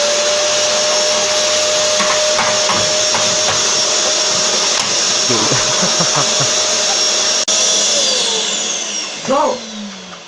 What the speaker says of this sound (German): Ich muss Staubsaugen.